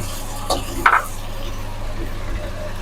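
Tomatoes going into a hot pan of oil with cumin, cardamom and cloves for potato chicken curry, giving a soft steady sizzle with a couple of brief stirring clinks and scrapes near the start, close by.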